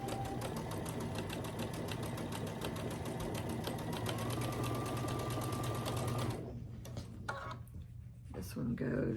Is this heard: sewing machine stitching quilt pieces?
yes